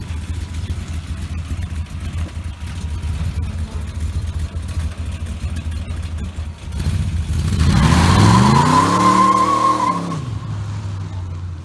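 A Ford Falcon fitted with a brand new shifter idles, then revs hard and sweeps through rising engine harmonics as its tires squeal and skid loudly for several seconds before the engine settles back to a steady idle.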